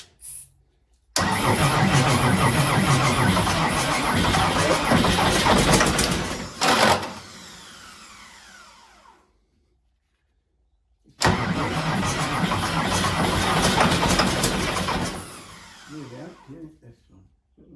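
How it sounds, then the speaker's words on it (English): A Ford 8700 tractor fitted with a 270hp engine cranks on a new starter and fires, its loud running roar cutting off and then cranking and catching again a second time; people talk nearby. "That new starter spins it like a dream."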